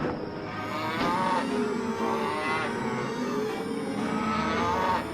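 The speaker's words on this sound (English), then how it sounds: "Mr. Man heard his cows mooing in the field." Cows in a farm field moo in long, drawn-out, resonant lowing calls that overlap and swell steadily across the short stretch.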